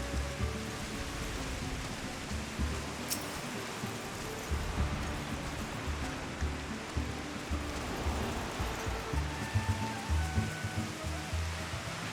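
Soft, steady rain in Final Fantasy 14 hisses evenly on surfaces, faint and constant, with a low rumbling bed beneath and no voices.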